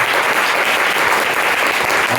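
A church congregation at a morning fasting and prayer meeting claps in steady, sustained applause, a dense wash of many hands with no break and no voices over it.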